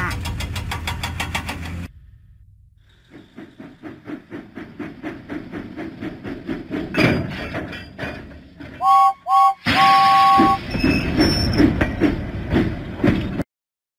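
James the steam engine in a Thomas the Train video game puffs out of the docks with rhythmic chuffs that quicken and grow louder, followed by bright whistle tones and a narrator speaking over it.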